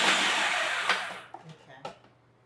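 A blender or food processor whirs loudly for about a second while grinding basil pesto, then cuts off, leaving a few faint clicks and knocks as the motor winds down.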